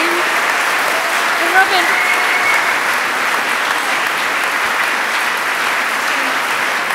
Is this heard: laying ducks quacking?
no